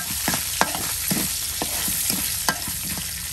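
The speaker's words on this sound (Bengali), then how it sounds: "নাতিকে ভুট্টা ভেজে দিবে দেখুন একটু তেল দিয়ে লবণ দিয়ে দেওয়া হলো" Corn kernels frying in oil with salt in a village kitchen, a steady close sizzle with repeated scraping stirs and small clacks at an irregular pace, no voices.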